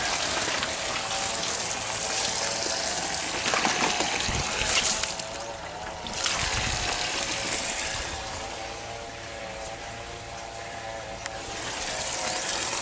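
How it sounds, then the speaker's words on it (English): Water flowing into a breeding tank, a steady gushing pour that runs throughout with a few surges and small mechanical clicks, close and moderately loud. "let the water start flowing into it"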